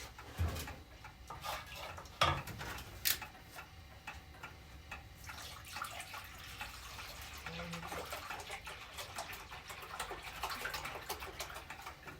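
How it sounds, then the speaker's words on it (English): Four cups of milk poured into a pot on a 1917 Hughes electric range: a faint, steady liquid pour with a few light clinks, close and quiet. "now we're going to add 4 cups of milk to this"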